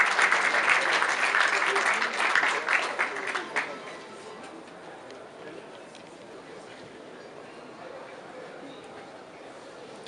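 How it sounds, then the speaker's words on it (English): An audience at an architects' forum applauds the welcome address speaker, several seconds of clapping that fades quickly into a quiet room tone. "Let's give him a round of applause"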